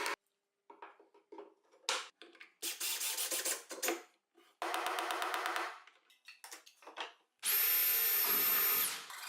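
A power drill drives screws into a junction box in several short whirring bursts, separated by pauses and small handling knocks, close and fairly loud.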